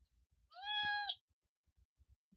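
A house cat gives a single clear, drawn-out meow, near and fairly loud, with faint scattered taps and rustles before and after it.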